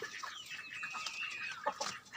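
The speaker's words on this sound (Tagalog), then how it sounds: "meron ding mga manok" Several chickens cluck and chirp nearby, short repeated calls overlapping against a quiet background.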